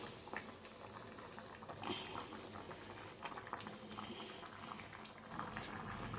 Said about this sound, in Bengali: ঝোলটা ফুটে গেলে তবে আমি মাছটা দেবো।